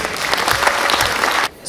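A crowd at a Zhaidarman comedy league event in Ekibastuz bursts into loud, dense applause for a team, holding briefly before cutting off abruptly.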